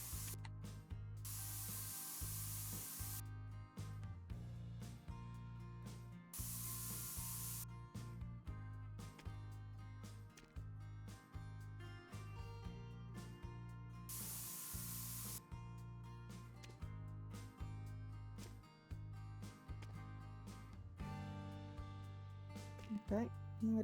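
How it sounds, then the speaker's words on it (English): Spray can hissing in the Spray Paint Simulator video game as paint goes onto a window, repeated long hisses over steady game music with a voice talking in bursts. "Oops, I just sprayed a bit of the window."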